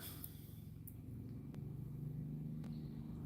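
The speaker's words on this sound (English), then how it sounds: "I hear Papa's buggy, so he's probably bringing them back." A buggy engine rumbles low and faint in the distance, a steady droning hum that grows slightly stronger as it approaches, with a couple of soft knocks nearby.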